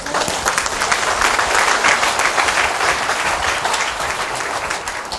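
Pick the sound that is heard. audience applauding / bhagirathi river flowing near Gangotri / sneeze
audience applauding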